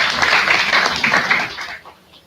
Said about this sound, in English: Let me have a big round of applause for each one of